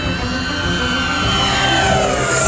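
An F9F-8 Cougar model jet with an 80mm ducted fan runs at full throttle overhead, a loud steady whine that rises in pitch as it swells slightly, with no talking.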